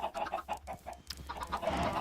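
Minecraft chickens cluck in a quick series of short, repeated bursts, fairly close and clear, with no talking over them.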